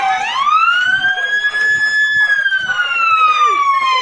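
Loud wailing siren of a Bureau of Fire Protection fire truck arriving at a fire in Prosperidad, Agusan del Sur, one long rising and falling tone held close by, with faint voices underneath.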